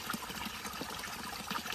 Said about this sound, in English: get a nice full bowl of water